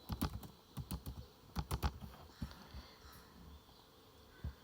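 An SQL command is typed on a computer keyboard in quick bursts of close, crisp key clicks, followed by a few scattered taps, with no voices.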